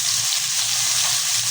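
Spiced tilapia fish frying in hot oil in a kadai, giving a constant, loud, hissing sizzle heard up close without any speech.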